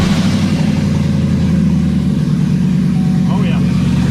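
A 2020 Chevrolet Colorado with a V8 engine runs loudly in park, a deep, sustained rumble with a slight rise in revs, while a voice talks over it.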